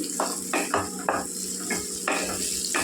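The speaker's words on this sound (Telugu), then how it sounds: "ఈ నూనెలో మగ్గనివ్వాలండి మామిడికాయ ముక్కలు" Mango pieces frying in oil, a continuous sizzle broken by several soft stirring scrapes and clinks from a utensil against the pan, heard up close.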